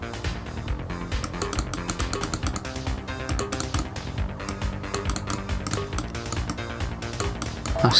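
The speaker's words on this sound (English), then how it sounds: "Nice clicky mouse as well, which you can probably hear through the microphone." Mouse clicks from a 3DO console game of Lemmings being played on real hardware, rapid and irregular, mixed in with game music and sound effects.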